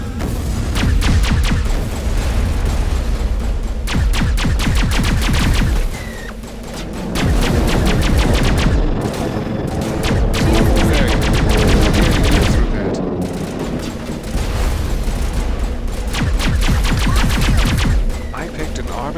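Sustained gunfire in the video game Mass Effect: rapid bursts of automatic weapon shots crackle loud and close, with brief pauses between volleys and booming impacts mixed in.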